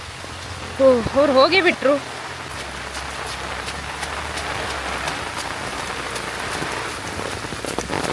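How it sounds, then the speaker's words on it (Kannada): Steady rain patters on surfaces outdoors on a wet Malnad farm, a continuous even hiss that runs the whole time, while a person speaks briefly near the start. "ಮಳೆನೂ ಬರ್ತಾ ಇದೆ"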